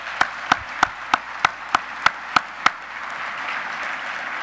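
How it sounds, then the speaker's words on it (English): Audience at an ROTC students and veterans dinner claps in a steady, evenly spaced run of about nine sharp claps, then the sound fades into a soft room hum. "So let's give them a round of applause."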